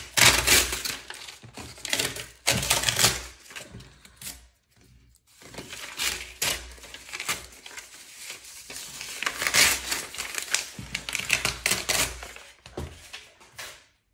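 Paper being torn and pulled off a board studded with nails during a wire art craft project, a series of close crinkling rips and rustles in irregular bursts with brief pauses, no talk.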